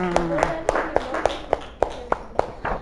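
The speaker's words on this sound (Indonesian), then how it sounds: "Tepuk tangan untuk kelompok 1 semuanya" A small group in a classroom gives a brief round of scattered applause for a presenting student group, about ten distinct claps in an uneven rhythm over steady room noise.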